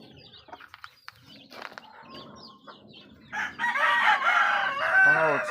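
Chickens in a coop cluck and call in short, scattered bursts, faint at first, then growing louder and busier toward the end with a rooster-like crow rising among them.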